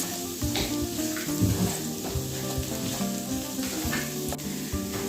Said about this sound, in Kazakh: Пиязымыз қуырылып болғаннан кейін сәбізімізді салып қуырамыз.